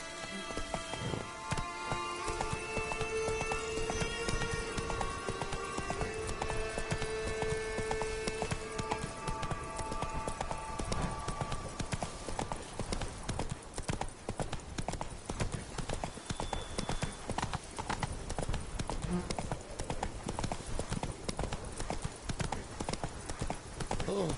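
Roach, a horse in the video game The Witcher, clip-clops along in a steady, continuous hoofbeat rhythm under constant rain patter, with a brief melodic tone early on and no talking.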